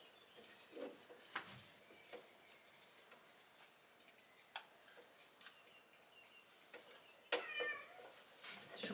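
A house cat meowing indoors, with several short, soft calls spread across the stretch and small ticking and rustling sounds between them in a quiet room.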